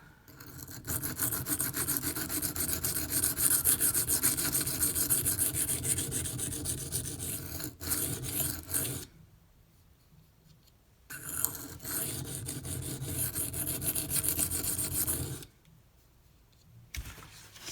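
A Microtech UTX-70 knife blade is drawn steadily across Venev pocket diamond stones, giving a continuous dry scraping rasp that runs for long stretches, with two brief quiet pauses between strokes. Close and fairly loud, no voices.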